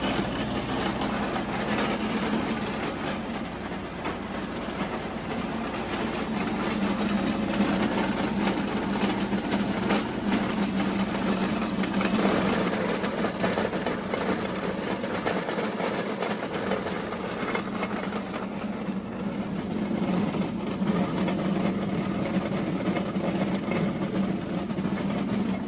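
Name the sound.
tractor PTO-driven Bamfords OC3 roller mill running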